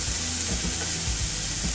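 Vegetables for veg fried rice sauté over a high flame, a loud continuous sizzle with quick scraping stirs of a spatula in the pan, close and without talk.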